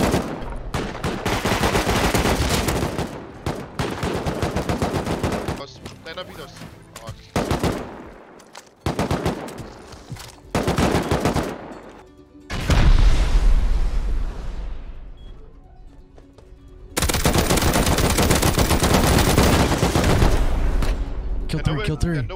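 Rapid automatic rifle fire, including an AK, in the online survival game Rust, with loud bursts and sustained volleys broken by short pauses and a rumbling blast, close and dominant throughout.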